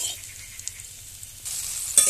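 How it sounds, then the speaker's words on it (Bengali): Spice paste of bay leaf, nigella seeds, ginger paste, turmeric and chili powder fries in oil, making a faint, steady close sizzle that grows a little louder near the end, with a brief clink. "ভালো করে একটু মশলাটাকে কষিয়ে নেব।"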